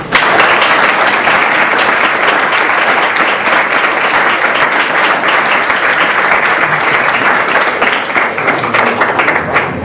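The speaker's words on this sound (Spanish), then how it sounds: "Les pido una aplauso." A university faculty audience gives prosecutor Armendáriz a loud, sustained ovation of dense clapping that runs steadily close-up for the whole stretch, with hardly any voices.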